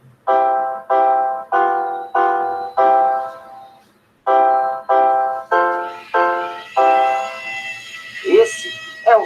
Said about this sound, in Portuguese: Esse é o som de piano.